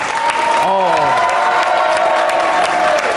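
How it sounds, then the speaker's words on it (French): A convention crowd at the Toulouse Game Show applauds actor Richard Dean Anderson during a live radio broadcast, loud steady clapping with cheering and a voice carrying over it. "On va applaudir Richard Anderson pour son immense carrière"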